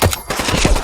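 Rapid bursts of silenced Desert Eagle .50AE pistol fire in Fallout 4, heavily modded: dense, loud, punchy shots in quick succession, close and continuous over less than a second.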